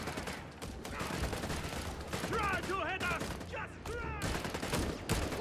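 Anti-tank gun fire in Company of Heroes 3 during a Wehrmacht versus US Forces match: sharp, repeated battle reports and bursts crackle under game action while a caster talks over the top.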